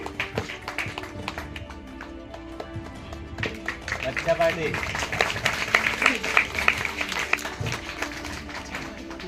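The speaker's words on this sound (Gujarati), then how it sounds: "તાળીઓના ગડગડાટથી વધાવીશું દીકરી કામિનીને" An audience applauds at an award ceremony honouring bright children, a rising patter of many hands that grows louder and denser midway, mixed with a voice over a loudspeaker.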